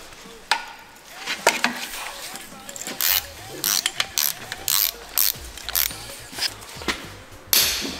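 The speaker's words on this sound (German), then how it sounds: "Das ist die Abgasseite und die lässt sich sehr schwer drehen" The exhaust side of a turbocharger from a V10 biturbo engine is turned stiffly by hand, giving close, intermittent gritty scraping and ratcheting clicks in short irregular bursts.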